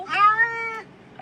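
A cat gives a single clear, drawn-out meow close to the microphone, loud and alone, followed by a brief rustle.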